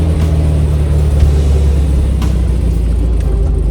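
A car driving along a highway on a breezy day, with a steady low road rumble and engine drone throughout, no voices.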